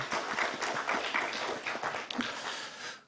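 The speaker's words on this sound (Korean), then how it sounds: "역사하신 하나님께 영광의 박수 올려드리십시다." Congregation applauding during a church service, dense sustained clapping from many hands that fills the room and fades out at the end.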